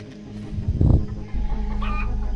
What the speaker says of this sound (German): Hier sind noch Schweine und Hühner.